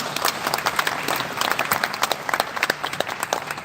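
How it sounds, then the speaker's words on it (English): Audience at a university book launch in Dubai breaks into a steady round of clapping, many hands sharply audible up close, with no talking over it. "Let's give a round of applause."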